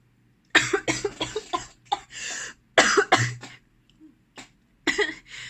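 A person coughs repeatedly in several clustered bursts, close and fairly loud, with short quiet gaps between the fits.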